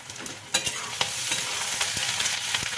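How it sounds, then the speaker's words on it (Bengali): Large-cut onion frying in a pan for peyaj posto, a quieter steady sizzle punctuated by several sharp stirring knocks and scrapes, nearby with no talk. "পোস্তটা ভেজে পেঁয়াজটা ভেজে নেবো ভালো করে"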